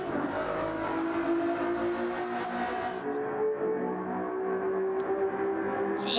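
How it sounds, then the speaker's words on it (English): Ferrari 296 race cars in a racing video game charging from the start at Suzuka Circuit into turn one: loud, layered engine whine with rising revs and overlapping cars, one tone sweeping past. "Ferrari 296 is blaring down into turn one"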